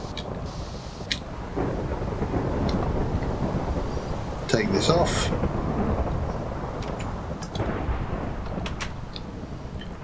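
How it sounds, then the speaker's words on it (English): A thunderstorm in the Minecraft GregTech New Horizons modpack rumbles with heavy thunder and steady rain noise, loud and continuous, with a sharper crack midway while someone talks over it. "Maybe sleep through the storm because it's very loud."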